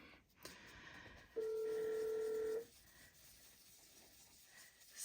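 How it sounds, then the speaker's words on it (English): A mobile phone left on in the background gives a single sustained electronic beep tone of about a second, faint and distant over quiet room hiss. "Sorry about the noise in the background. My husband left his phone on."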